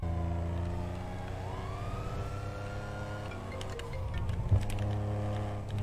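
Police car siren wails continuously in GTA V while the car flees a pursuit, a loud steady two-tone electronic sweep with engine rumble beneath and a brief thump near the end.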